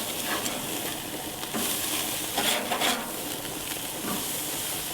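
Burger patties sizzle steadily on a hot grill in a German beer-garden setting, a continuous loud frying hiss with brief bursts of crackle and no talking.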